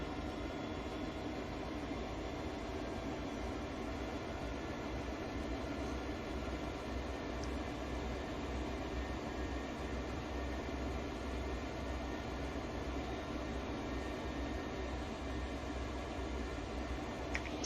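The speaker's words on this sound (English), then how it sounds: "fly past of train passing" A freight train in Train Sim World 2 on Sand Patch Grade rumbles past in a steady, unbroken roar that holds at an even loudness throughout.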